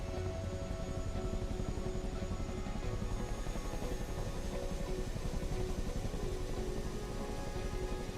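Chinook helicopter in Microsoft Flight Simulator 2024 drones with a steady, rhythmic rotor thrum and engine hum, continuous and even throughout, heard from inside the aircraft with no voices.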